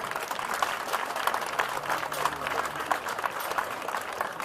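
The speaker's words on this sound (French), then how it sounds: "on peut encore l'applaudir" At an outdoor town festival, a crowd applauds a long-distance swimming champion with continuous clapping, while a faint tone and murmur sit beneath the steady applause.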